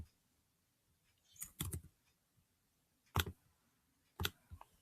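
Short bursts of computer keyboard typing, a quick cluster of key clicks followed by two more separate taps, close and fairly faint against a near-silent room.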